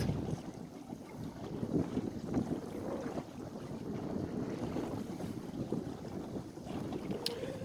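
A sailboat moves under sail, with steady wind rushing across the microphone and water washing along the hull. It is alone, with no voices.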